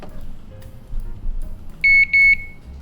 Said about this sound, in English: You'll hear the beep, and then put the weight platter back on.